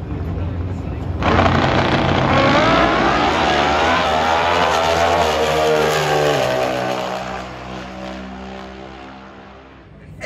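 Chase Van Zandt's NHRA drag racing car thunders past on his first NHRA race, its roar rising loud after a second, sweeping down in pitch and fading away, with an announcer talking over it.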